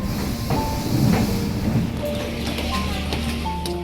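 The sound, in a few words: train entering Chandigarh station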